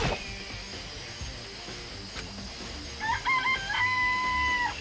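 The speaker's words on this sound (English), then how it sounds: "I count 4 chickens." Video game chickens in Danganronpa Trigger Happy Havoc: steady clucking and fowl calls over background music, with a drawn-out rooster-like crow rising near the end, loud and close, no talk.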